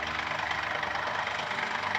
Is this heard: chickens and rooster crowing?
no